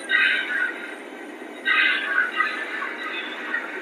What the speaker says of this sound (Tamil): நம்ம ட்ரெயின் மூவ் ஆகிடுச்சு, கேட்டு க்ளோஸ் ஆகிரும்